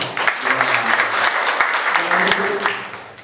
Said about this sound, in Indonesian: berikan tepuk tangan saudara